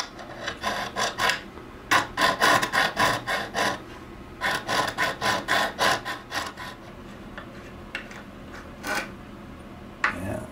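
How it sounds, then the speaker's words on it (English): A triangular file rasps across the threaded bolt of a vintage Ludwig drum, in bursts of quick, close back-and-forth strokes separated by short pauses, with no voices. "I think I'm going to use a triangular file to try and just recut the thread where it is, or at least file it down so that the nut can slide over it."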